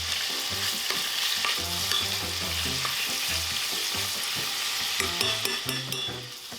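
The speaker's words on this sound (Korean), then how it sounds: "자, 참기름을 넣고요. 썰어준 고기를 넣고 볶아줍니다." Sliced beef stir-fried in sesame oil for Korean seaweed soup, a loud constant sizzle with repeated scraping and tapping of a utensil against the pan, close and busy throughout.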